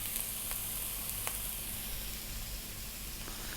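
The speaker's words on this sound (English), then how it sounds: "I'm going to fry this around medium heat or just above a medium heat for about 3 or 4 minutes" Vegetables frying in a pan over just-above-medium heat give a constant close sizzle and hiss, with a couple of faint ticks and spatters and no voices.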